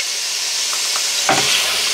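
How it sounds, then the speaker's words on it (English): Chopped onion drops into melted butter in a pan for a sausage casserole, a steady sizzling hiss that jumps into a louder burst of frying as it lands, close up with no talking. "This is the butter melted now, so I'm just going to put in my onion."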